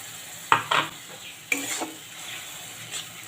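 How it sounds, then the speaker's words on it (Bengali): A spice paste with yogurt, onion, tomato and chili is sautéed in a pan, giving a few short scraping stirs and sizzling bursts with quiet gaps between them. "ভালো করে আবারও কষিয়ে নেব সব দিয়ে"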